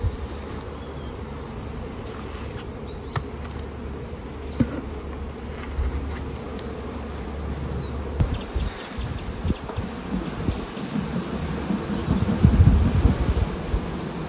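Honeybees buzz steadily around an open hive during a late inspection, a dense continuous drone that swells slightly toward the end, with faint rustles from the frames and no voices.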